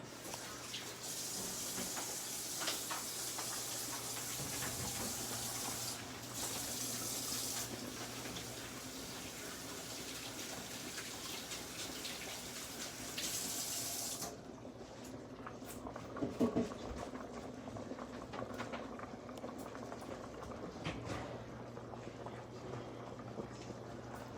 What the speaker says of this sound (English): you gotta make me wash my hands again to finish my video